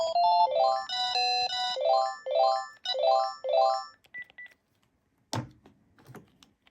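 A 2007 Panasonic KX-TG9344 DECT cordless phone plays a bright electronic melodic ringtone, its short phrase repeating several times, followed by a few lone key beeps and a single clunk against near silence.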